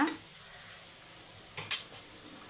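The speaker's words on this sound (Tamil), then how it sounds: "மசாலாலாம் ஃபுல்லாக நல்லா படுற மாரி மிக்ஸ் பண்ணி விட்டுக்கோங்க" Masala being stirred into vegetables and plantain in a pan for a Thai Pongal festival dish, a soft steady scraping over faint sizzling with a few sharper utensil knocks near the end.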